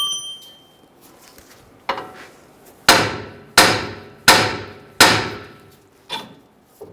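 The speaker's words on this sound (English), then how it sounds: "try using a punch underneath the tie rod, give it a tap" Hammer tapping a punch against a tie rod to separate it from the knuckle during front lower control arm work on a 2011-2018 Ram 1500 pickup: four loud, ringing metallic strikes in steady rhythm, preceded and followed by lighter taps.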